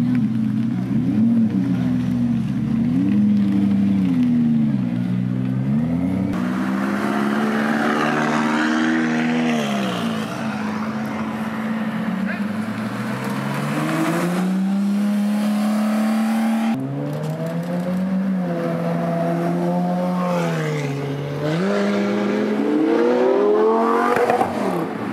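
Cars at a PFS car meet accelerating away one after another, loud engines revving hard with rising and falling pitch sweeps and gear changes, close by and continuous.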